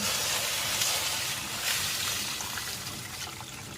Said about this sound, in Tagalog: Tapos maglagay na tayo ng panibagong tubig.